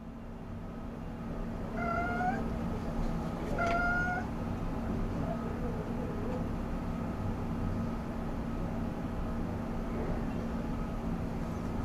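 A cat meows twice within a few seconds, fairly faint and set against a steady low background hum, then stays quiet.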